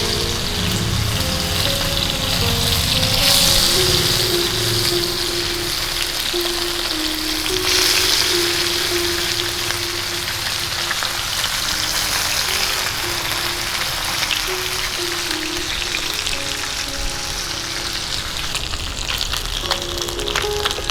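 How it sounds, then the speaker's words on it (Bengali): Small mourala fish sizzle and spit steadily in hot oil, a continuous frying crackle with no one speaking. "গরম তেলে ছেড়ে দিচ্ছি।"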